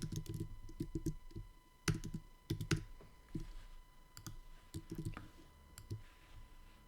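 Typing on a computer keyboard comes in short bursts of crisp clicks, quick clusters broken by brief pauses, close and fairly quiet with no talking.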